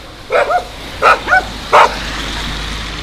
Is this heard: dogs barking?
yes